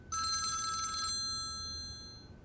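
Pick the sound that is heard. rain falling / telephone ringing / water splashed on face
telephone ringing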